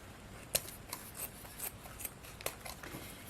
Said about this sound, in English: and then we can cut off the end